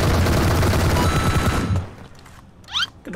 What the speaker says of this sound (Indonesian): Kena bom temannya sendiri, guys.